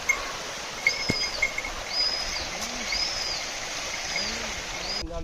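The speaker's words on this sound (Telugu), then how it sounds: "ఇక్కడ ఒక చిన్న వాటర్ ఫాల్ లెక్క ఉంది." A small waterfall stream near Kallegaon in the Asifabad countryside flows with a constant bright rushing close by, while birds chirp and call in the background.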